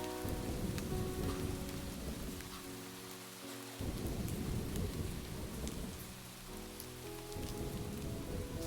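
Steady, dense rain patters on surfaces during a thunderstorm, with deep rumbling thunder rolling underneath and sustained tonal notes in the background.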